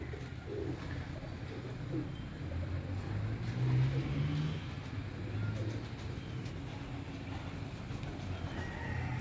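Teddy pigeons in a home loft coo in soft, low, repeated throaty murmurs over a constant faint background rustle, fairly distant and quiet throughout.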